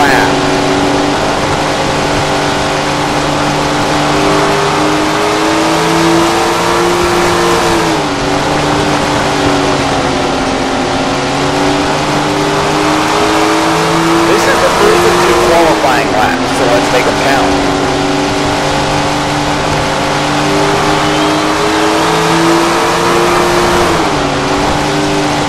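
A sprint car engine on a qualifying lap in the Tony Stewart Sprint Car Racing game, holding a loud, steady high drone with pitch swells as it goes through the corners. Talk is heard over it.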